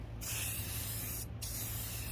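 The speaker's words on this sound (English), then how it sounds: "spraying the other side now" Two close hissing bursts from a Rust-Oleum Satin Canyon Black spray paint can, a long spray with a brief break in the middle, loud and continuous.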